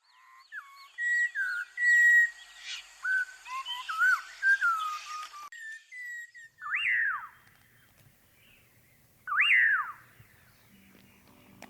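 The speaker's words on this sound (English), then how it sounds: "This is when Abidur Rahman hears the calls of the most elusive birds." Birds call at dawn in India, bursts of clear whistled notes and chirps from several birds, then a quieter stretch with sparse, rising whistles against near silence.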